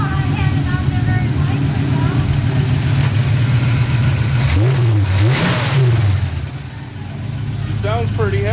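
A 1955 Chevy truck engine idles loud and close with a steady rumble and slight lifter noise. Midway there is a brief rise in revs before it settles back, with people talking over it.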